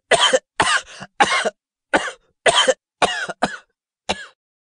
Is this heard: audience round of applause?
no